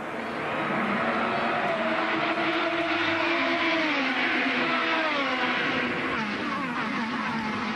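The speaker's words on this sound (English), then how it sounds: "Let's listen, go through the gears up to 160 miles an hour to turn 1." An IndyCar race car at the 2012 Honda Grand Prix of St. Petersburg accelerates hard through the gears, its engine note climbing in pitch, dropping at each upshift and climbing again, loud and continuous.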